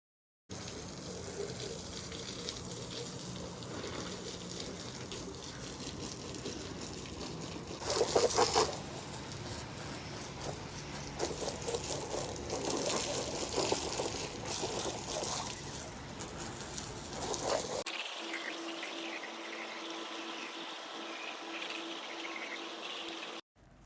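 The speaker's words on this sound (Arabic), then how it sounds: "وانا اغسل بهذن الفراشات" Running water from a tap pours steadily while mattresses are washed, a continuous gushing splash with a louder surge midway, then a thinner, steadier stream near the end.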